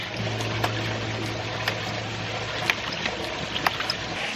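Water runs steadily through a ram pump delivery pipe after its valve is opened, a continuous rushing flow with a low hum and a few faint clicks and knocks layered over it.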